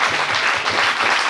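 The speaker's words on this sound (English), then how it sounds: "So a big round of applause for them, too." An evening event audience applauds volunteers, with a dense, continuous wash of clapping that is close and loud and holds steady for the brief stretch without any voices.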